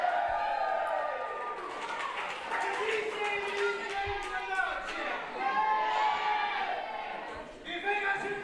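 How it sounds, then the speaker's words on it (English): A crowd at a pro wrestling event keeps up a steady roar of cheering and shouting while someone comments loudly over it. "Sean Moran just getting that crowd going up"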